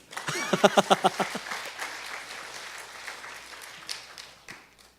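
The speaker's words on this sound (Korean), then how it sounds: "이럴 땐 박수 쳐야 되는 거 아니에요?" A church congregation at a Wednesday prayer service breaks into applause: a brief run of distinct claps builds into a soft, scattered wash of clapping that fades over several seconds, heard from a distance in a large room.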